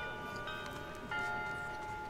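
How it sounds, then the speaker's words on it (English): Wedding bells chime in Octodad: Dadliest Catch, a few faint sustained tones with a second strike layered in partway through, ringing softly in a quiet scene. "Oh, wedding bells."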